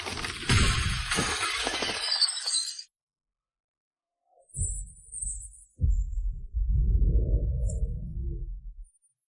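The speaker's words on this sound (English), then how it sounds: "One slash shatters a top-tier weapon." Magical sword shattering under a strike from an iron blade, a loud bright crash of breaking metal that cuts off into silence, then low booming impacts and a rumbling swell, no voices.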